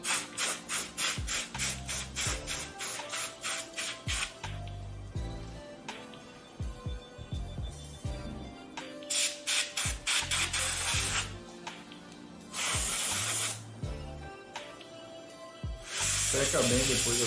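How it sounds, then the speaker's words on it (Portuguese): Pressurized water spray hisses steadily while rinsing a silicone dental surgical guide, continuous and close, broken by short pauses and mixed with suction and handling noises. "Lava com spray de água"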